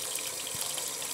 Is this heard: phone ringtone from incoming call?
no